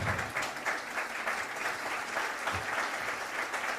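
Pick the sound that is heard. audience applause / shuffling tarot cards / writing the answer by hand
audience applause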